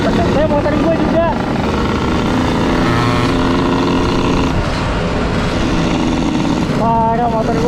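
Motorcycle engine in a racing video game featuring two-stroke bikes such as the 125Z, Satria and RX King, a loud continuous buzzing drone with several engines layered together and a voice talking over it.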